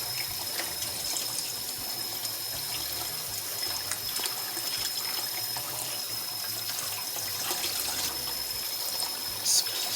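Water poured off rinsed brown rice, tipped out of a pot into a sink, makes a steady close trickle and splash that runs for the whole stretch without talk.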